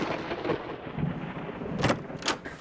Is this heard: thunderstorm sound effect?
yes